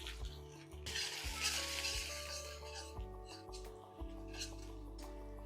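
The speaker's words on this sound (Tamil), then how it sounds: "பாருங்க, இது எல்லாமே நல்லா வதங்கிட்டு இருக்கு." Onion, curry leaves and coriander sauté in a pan for a crab pepper masala, with close sizzling and stirring plus light clinks of a utensil against the pan.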